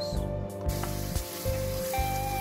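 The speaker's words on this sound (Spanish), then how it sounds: "Cuando empiece a calentar, agregamos la cebolla y los dientes de ajos picados." Chopped onion and garlic sizzle in hot oil for a cottage pie, a soft steady hiss with faint crackles over a low background hum, close but quiet and brief.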